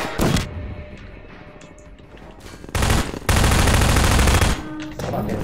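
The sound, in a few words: gunfire from the video game Half-Life 2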